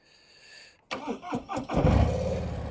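A Harley-Davidson motorcycle on a chilly morning in Germany cranks briefly after a short electronic chime, then fires up and settles into a loud, rumbling idle close by.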